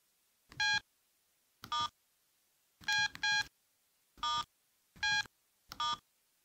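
Key presses on a Sony Ericsson T230 mobile phone give seven short, clear electronic tones, some single and some in quick pairs, spaced irregularly over a quiet background with no talking.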